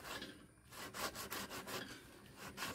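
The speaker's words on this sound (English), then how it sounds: "rough edge which we can smoothen out with the sandpaper" Sandpaper rubs back and forth over the hacksaw-cut edges of a PVC pipe, a faint, close scratchy rasp in repeated short strokes with no talk.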